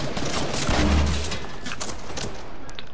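Video game gunfire rattles as a dense, continuous volley with a heavy thump partway through, loud and close, with no talk.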